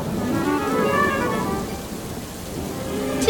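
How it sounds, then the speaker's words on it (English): Heavy rain pours steadily in a cartoon scene, with low rumbling thunder rolling beneath the downpour and a brief sharp crack at the end. "Today is a day of heavy rain"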